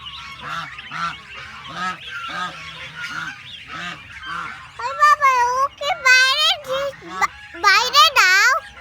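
Ducks on a small farm with newly hatched ducklings give repeated loud, honking quacks close by. The calls come in overlapping bursts that grow busier and higher-pitched toward the end.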